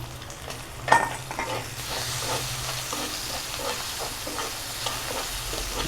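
Chopped tomatoes fry and sizzle in a hot pan, stirred now and then, a steady close crackle with a sharp clatter near the start and no talk.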